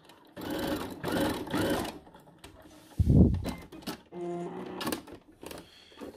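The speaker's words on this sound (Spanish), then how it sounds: "Igualmente cosemos con puntada recta. Vamos a usar una puntada corta." A home sewing machine running a short straight stitch of length 2 on lingerie fabric for a bra, several close bursts of rapid mechanical whirring separated by pauses, with a clunk and handling noises between runs.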